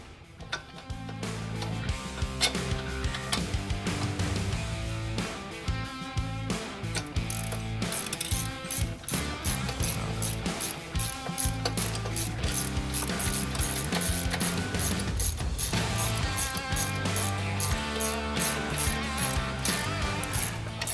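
Ratchet wrench clicking steadily while tightening bolts on the shackle of a custom golf cart's bolt-on 3-link long-travel rear suspension, loud and close, with repeated ratcheting strokes throughout and no talk.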